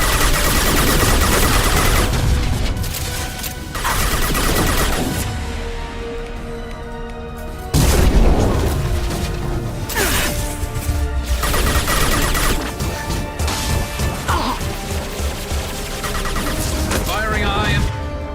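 Sustained gunfire during a firefight in the sci-fi game Mass Effect 2, repeated bursts and booming impacts layered over game music, with voices talking intermittently throughout.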